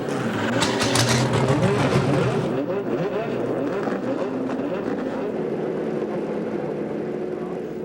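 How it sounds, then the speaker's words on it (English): Sports car engines firing up at the start of an ALMS race at Mosport, a loud rumbling blend of many revving engines that settles into a steady roar. "Drivers, start your engines."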